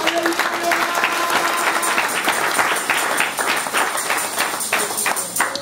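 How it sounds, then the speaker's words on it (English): A church congregation claps together in praise of God, dense, steady applause filling the room from start to finish, with faint voices mixed beneath. "Yes, go ahead and give God a big clap."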